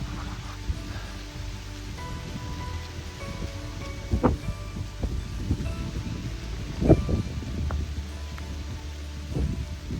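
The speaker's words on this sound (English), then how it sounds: "Rain's picking up, for sure." Steady rain patters on tree foliage in Lower Green Swamp Nature Preserve, with occasional louder drips and rustles breaking through the constant wash of sound.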